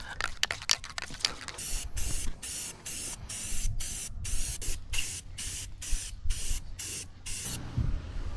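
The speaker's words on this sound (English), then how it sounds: "Start prepping for paint. Spindle's covered. Really the only stuff I like using. Rust-Oleum Performance High Enamel." Rust-Oleum Performance High enamel spray can painting a boat trailer axle, heard as a rapid series of short, close hissing bursts followed by longer sustained sprays, loud and alone.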